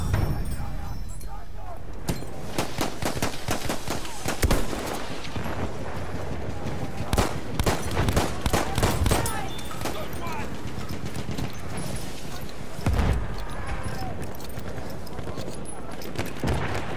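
Machine gun fire in a video game cracks in rapid repeated bursts across the battle, with distinct louder volleys standing out at intervals over a busy background, while voices call out over it.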